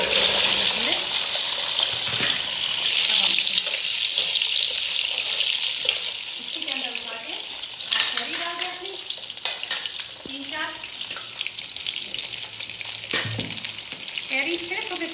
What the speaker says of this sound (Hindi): मैं इसके अंदर अपने लसूड़े फ्राई करूँगी